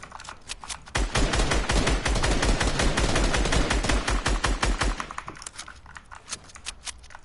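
Rapid automatic gunfire in a shooter video game, a loud dense burst of shots rattling for several seconds, then thinning into scattered single shots and clicks, with no talking.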